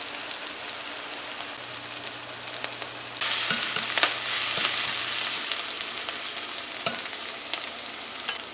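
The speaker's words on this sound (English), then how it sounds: "Fry it up for about 2 minutes." Frying in a pan for a papaya curry with coconut milk and shrimp, a dense continuous sizzle that swells suddenly louder partway through, with occasional stirring clicks, close and with no speech.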